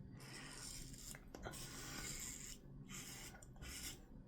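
Wet shaving with a razor after lathering with an Omega Pro 48 boar brush: soft, close scraping strokes come in short bursts separated by brief pauses, quiet and without talk.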